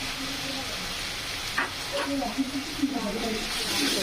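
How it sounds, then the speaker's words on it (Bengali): Ginger and garlic sizzle steadily in a pan for an aloo dum curry, a continuous frying hiss with faint stirring scrapes, while a voice talks softly over it. "আদা রসুন একটু ভাজা ভাজা করে নেব"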